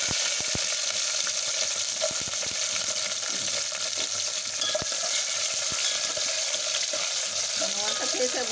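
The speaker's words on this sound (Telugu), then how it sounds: "జీడిపప్పు, కొబ్బరి ముక్కలు దోరగా వేగిపోయినాయండి." Cashew nuts and coconut pieces frying in hot ghee for semiya payasam hiss and sizzle steadily, with occasional spoon stirs and light clinks close by.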